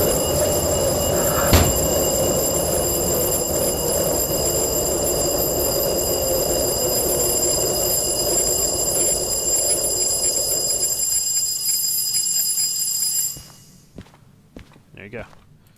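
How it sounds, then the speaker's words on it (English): In the train game Derail Valley, a GE diesel locomotive's alarm bell rings continuously during shutdown over the engine's winding-down drone, then cuts off abruptly, leaving a few faint clicks and thumps. "With GE's most annoying feature ever, their alarm bell."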